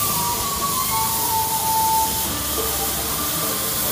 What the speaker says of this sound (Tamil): எப்படி கொதிக்குதுன்னு பாருங்க. தந்தூரி சாய் ரெடி ஆகுது.